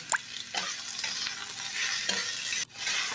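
Potatoes and onions fry in oil with dried chillies, a constant close sizzle broken by several quick spatula scrapes against the pan, with no talking.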